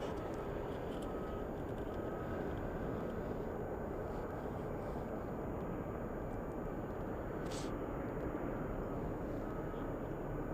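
A Boeing 777 jet at a snowy Anchorage airport gives off a steady, loud, broad engine roar that holds evenly from start to finish with no talk.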